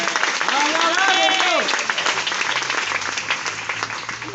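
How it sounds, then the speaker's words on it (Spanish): A church congregation claps together during a Spanish-language service, loud continuous clapping with a voice speaking over the start, fading slightly later. "Dele palmas al Rey todo si es posible."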